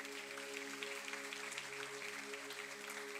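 A church congregation applauds in a steady, even wash of clapping beneath a sustained organ or keyboard chord.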